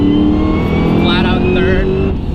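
A 1000-horsepower Cadillac CTS-V, set to competitive mode, pulls hard under throttle, its engine droning loud and steady from inside the cabin while a voice talks over it.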